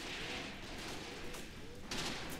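Friendly gunfire in the war game Graviteam Tactics, heard as a dense, steady wash of distant shots and rumbling fire with no pauses and no talk.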